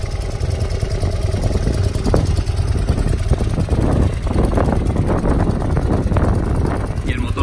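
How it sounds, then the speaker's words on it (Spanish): Outdoors, a BMW R100 T motorcycle engine idles steadily, its low, even thrum partly masked by wind buffeting the microphone. "Como veis, mantiene el ralentí perfectamente."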